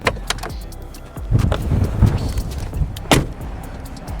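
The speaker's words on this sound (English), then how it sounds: "So jumping into the G-Wagon, and the first thing you would hear is that door lock, right?" Close-up clunks and latch clicks from a Mercedes-Benz G400d G-Wagon door, a few sharp thuds and mechanical locking sounds over a low interior hum, with no speech.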